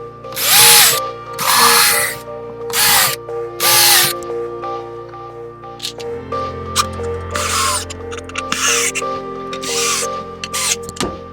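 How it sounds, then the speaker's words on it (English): Several loud bursts of a power drill pre-drilling holes in birdhouse wood near the mic, separated by short pauses, followed by quieter shuffling and handling noise. "we'll pre-drill these holes"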